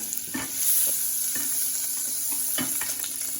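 A steady sizzle of butter melting in a pressure cooker, with a few soft scraping stirs at intervals, close and moderately quiet.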